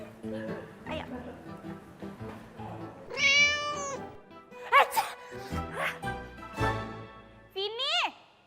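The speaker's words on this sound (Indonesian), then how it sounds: "lo masih bawa kucing ya?" A cat meows several times among chatter and children's voices in a lively indoor scene, with a few clear rising meows standing out over the talk.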